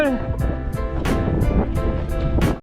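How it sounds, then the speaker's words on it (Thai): Strong sea wind buffets the microphone at a shoreline squid-fishing spot, a heavy low rumble throughout while voices talk and call out over it. "ลมก็แรงขึ้น"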